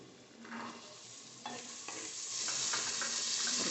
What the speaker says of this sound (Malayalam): നമുക്ക് ഗ്രീൻ പീസ് ചേർക്കാം.